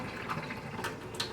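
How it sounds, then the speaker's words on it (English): Green stevia water pours through a strainer into a kitchen sink in a brief, steady splashing gush with a few sharper spatters. "you grab your strainer and then you pour it out just like that"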